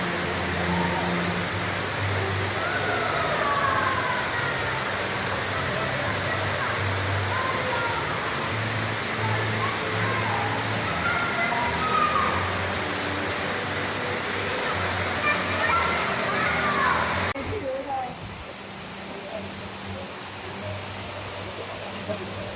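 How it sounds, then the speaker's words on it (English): Water from an underground waterfall roars steadily many hundreds of feet below ground in a cave, a dense broad rushing wash that drops to a quieter, duller spray near the end. "Underground waterfall."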